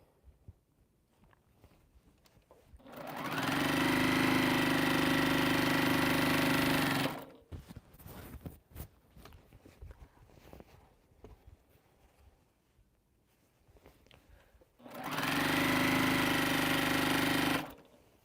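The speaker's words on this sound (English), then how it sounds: "So let me sew this seam" Sewing machine stitching a quilt seam, a fast even whirring hum running in two bursts of several seconds each, close and clear, with quiet handling and shuffling between them.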